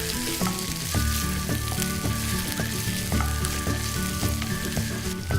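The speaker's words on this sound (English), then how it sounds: "You stir fry this until fragrant." Red chilies and spring onions stir-frying in a hot wok for Schezwan eggplant, a loud close sizzle with rhythmic scraping and tossing strokes repeating about once a second.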